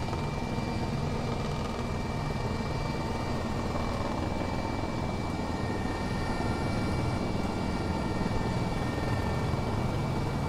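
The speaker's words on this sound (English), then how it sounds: "Let's stop the engines" Rotor and engine drone of a Mil Mi-2 helicopter in a flight simulator game, a steady, loud, dense hum with a faint high whine running unbroken throughout.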